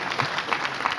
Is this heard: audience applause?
yes